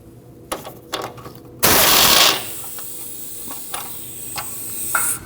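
A ratchet loosening the 19mm nut on an outer tie rod end of a 2003-2008 Subaru Forester: scattered metallic clicks, then a loud, sustained rasping burst of about a second, followed by softer sporadic ticks close by.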